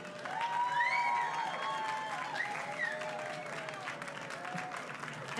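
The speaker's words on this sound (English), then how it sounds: "Can we give him another round of applause" Outdoor crowd at an Earth Day speech in Times Square, New York City, applauds faintly from a distance, with scattered whoops and cheering voices over the city background.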